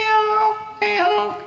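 A long-haired cat meows twice, loud and close, each call drawn out and tonal, the second starting abruptly after the first fades.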